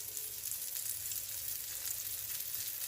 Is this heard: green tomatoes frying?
yes